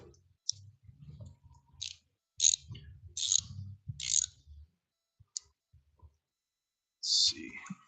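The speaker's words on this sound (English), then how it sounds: "Not trying to spend all day ratcheting it." A ratchet wrench clicks in short bursts while working on the engine of a 2009 Jeep Commander 3.7L during a head gasket job; quiet, close bursts of rapid clicking are separated by pauses, with low muffled speech underneath.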